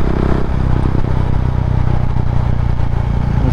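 Husqvarna Vitpilen 701 motorcycle riding along a road, its engine giving a steady, close, loud drone with a throbbing low rumble and no break in the sound.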